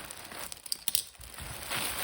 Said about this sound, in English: Looks like we got a plastic bag here for sealing.